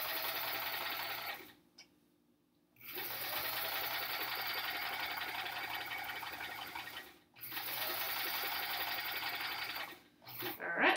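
Sewing machine stitching quilt hourglass units for a sampler quilt block, running in steady long bursts with brief pauses between seams, close and clear with no talk.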